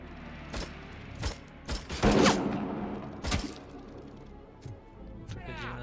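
Gunfire in the RoboCop: Rogue City video game: loud, sharp shots in irregular bursts, thickest around the second second, followed by a few mechanical clinks and softer thuds, with a voice faintly present.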